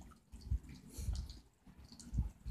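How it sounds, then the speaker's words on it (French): Water drops fall outdoors, giving a few soft, separate drips and small splashes at irregular moments, fairly quiet against a calm background. "des gouttes qui tombent un petit peu partout"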